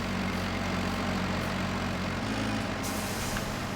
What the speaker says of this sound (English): did you hear that tractor complain when Hitman got in